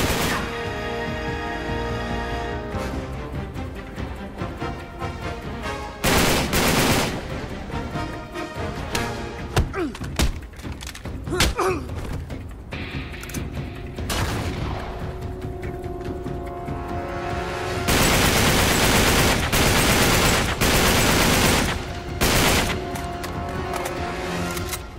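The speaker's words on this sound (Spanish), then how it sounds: "Aquí gastando munición, vamos." Gunfire in the video game Uncharted 3: repeated loud bursts and single shots with booms and thuds, dense and close, spread over a long action stretch with no talk.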